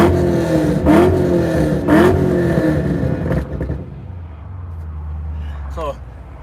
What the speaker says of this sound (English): let me give you 5 revs for the donation,